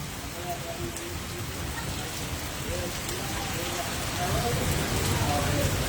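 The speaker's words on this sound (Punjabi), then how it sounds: "ਕਾਫੀ ਤੇਜ਼ ਬਰਸਾਤ ਹੋਣ ਲੱਗੀ" Heavy rain pours down steadily with wind in Tapa Mandi, Punjab, a dense hiss of drops on surfaces that grows slightly louder toward the end, with a faint voice underneath.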